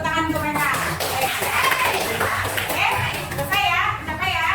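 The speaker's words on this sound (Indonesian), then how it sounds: "Tepuk tangan untuk mereka." A chemistry class of students breaks into applause, a steady patter of many clapping hands lasting several seconds, with children's voices chattering over it near the end.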